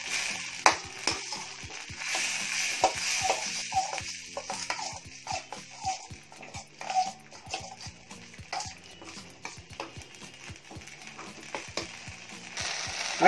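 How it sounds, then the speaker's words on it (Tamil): Masala for a crab roast fries in a pan over low heat while a spoon scrapes and stirs it continuously, making a busy run of clicks and scrapes over a soft, steady sizzle. "நல்லா அந்த பச்சை வாடை போகிற வரைக்கும் மிக்ஸ் பண்ணிகிட்டே இருக்கணும்"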